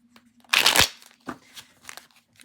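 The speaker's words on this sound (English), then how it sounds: "I want a good old shuffle, old school shuffle" Tarot cards riffle in one crisp, close shuffle lasting under half a second, followed by a few softer card taps and slides.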